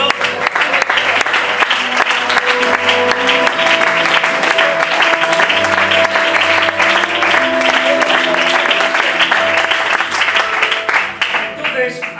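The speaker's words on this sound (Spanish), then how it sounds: "¡Aplaudan al Señor!" A congregation at a Spanish-language sermon claps loudly and steadily, a dense roll of applause mixed with sustained musical tones and raised voices, fading slightly at the very end.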